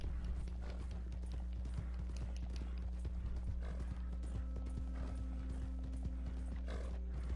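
Galloping horse hooves in the Red Dead Redemption 2 video game, a steady rapid clip-clop with a brief snort or whinny, set over a constant low hum of game sound and no talk.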